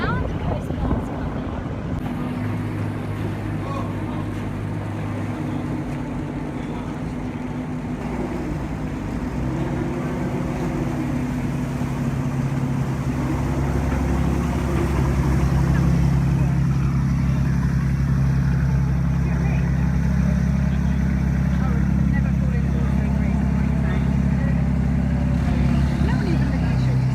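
A Coast Guard boat's engine drones steadily at sea during a rescue, a low hum that grows louder as the vessel draws closer, with wind buffeting the microphone and voices talking over it.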